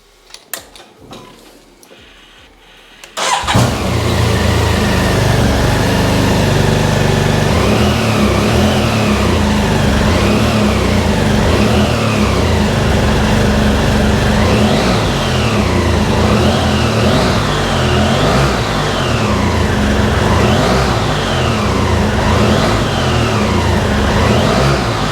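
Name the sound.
BMW F800GT motorcycle engine starting and running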